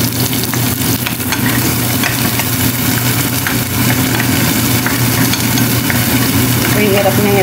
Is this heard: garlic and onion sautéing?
yes